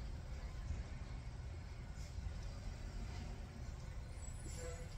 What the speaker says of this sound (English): The trash truck is going down the street.